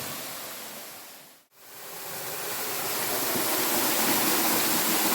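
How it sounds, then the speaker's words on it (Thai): A natural waterfall at Saeng Chan pours down through an opening in the rock, a dense, steady roar of rushing water that is loud and continuous, broken only by a brief dropout before swelling back to full strength. "ส่วนมากจะเป็นน้ำตกที่ไหล อันนี้ทะลุลงมาในหิน"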